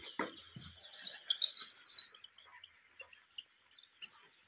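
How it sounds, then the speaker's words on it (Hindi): Seven-day-old sonali chicks chirp in a series of short, high peeps, fairly close and moderately loud, with a couple of low thumps near the start. "सात दिन के चूजे हैं, कितना अच्छा ग्रोथ किया है।"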